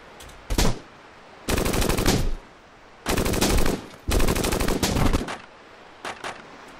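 Automatic gunfire from the tactical game Jagged Alliance – Back in Action rips out in three long, loud bursts after a short opening volley, followed by a couple of brief, quieter shots.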